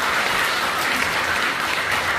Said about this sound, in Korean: 4년 동안 너무 고생 많으셨다고 다시 한번 박수 부탁드립니다